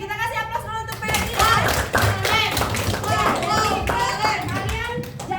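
A class of schoolchildren applauds a classmate in a classroom, with a steady patter of claps and taps running throughout, and children's and a teacher's voices chattering over it.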